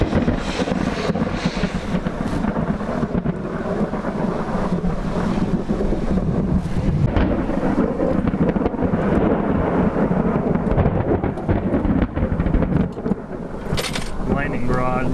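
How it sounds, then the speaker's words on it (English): Thunder rolls from a slow-moving, stationary supercell thunderstorm near Dupree, South Dakota, a loud, sustained rumble filling the whole stretch with wind buffeting the microphone and someone talking over it. "Lightning barrage might be starting. Oh, boom, yeah."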